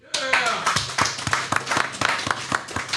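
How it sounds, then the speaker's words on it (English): An audience at a live event at a pizza venue gives a short burst of applause, with scattered, fairly close claps in a quick, uneven rhythm. "let's hear a round of applause"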